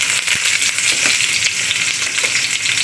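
Garlic and onion sautéing in a pan for a chicken feet dish, a steady close hiss of frying with faint stirring clicks throughout, no talking.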